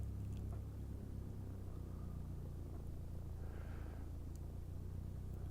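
A Piper PA-28 Warrior II engine idling at 1000 RPM while taxiing in X-Plane 12, a steady low droning rumble from inside the cockpit with no talking.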